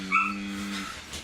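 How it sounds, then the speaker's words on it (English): A dog in the background lets out a single drawn-out whimper lasting under a second, followed by a faint yip, moderately quiet and with no talk. "that's a dog barking in the background."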